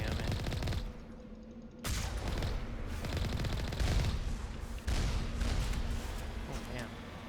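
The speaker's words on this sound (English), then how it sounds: "It's already shooting at me." Enemy gunfire in Mass Effect 1 during an uncharted-world assignment, a steady stream of rapid shots aimed at the player, loud and close, with a brief lull early on and a player voice talking over it.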